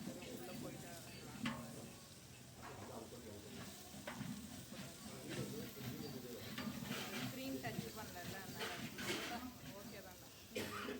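Masala sautés in hot oil for a spicy chicken gravy, giving a continuous close sizzle and crackle with frequent stirring scrapes against the pan. A voice speaks quietly under the cooking sounds.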